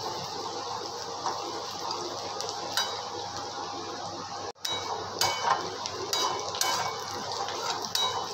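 Onions fry in a small kadhai for chicken biryani and are stirred steadily, with a soft continuous sizzle under repeated scrapes and clinks of a utensil against the pan and a short pause near the middle.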